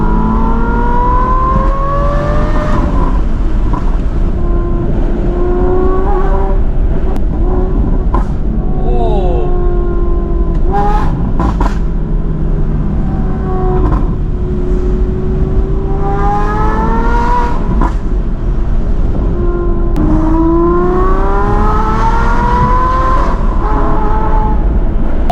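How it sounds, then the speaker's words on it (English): An Aston Martin V12 Vantage S with an F1-style straight-pipe exhaust roars loudly from inside the car, its engine note rising and falling through repeated gear pulls. A voice speaks intermittently over the noise. "I have a V12 Vantage with pretty much an F1 straight pipe,"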